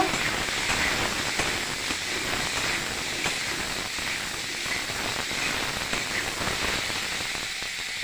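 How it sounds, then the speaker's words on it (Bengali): Vegetables with salt and turmeric frying for khichuri, among them potato, pumpkin, cauliflower and cabbage: a dense, even hiss of sizzling oil that runs without a break, close and fairly loud, with faint scraping under it. "লবণ আর হলুদ দিয়ে আমি একটু সবজিগুলো ভেজে নিচ্ছি"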